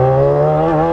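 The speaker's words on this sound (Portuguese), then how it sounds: "Vou acelerar essa motoca, mano. Acelerar o XJ tão só o cano." A Yamaha XJ6 motorcycle engine holds a loud, steady, close-up revving drone with strong harmonics for under a second.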